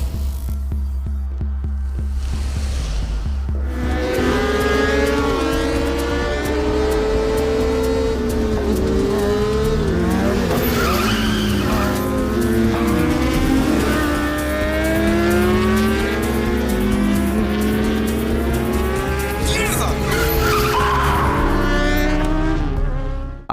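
A race motorcycle runs off the track mid-race, its engine howling loud and close for the whole stretch, pitch sweeping up and down as the throttle rises and falls, with no voices.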